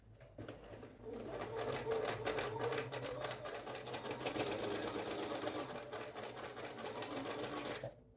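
Sewing machine straight-stitching a back dart on a pair of jeans, heard as a close, steady rapid mechanical whir that runs for about seven seconds before stopping.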